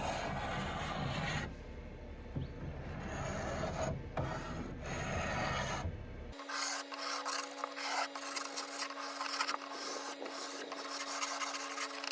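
Scraper attachment dragged along the curves of a wooden waterfall dresser, producing steady close rasping and rubbing strokes, then a harsher scraping passage with a faint steady hum behind it.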